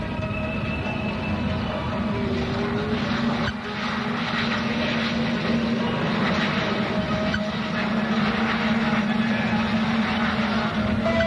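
Steady, continuous A-10 jet aircraft engine roar with a droning hum as it flies past at an air show, sustained and fairly loud throughout without pauses.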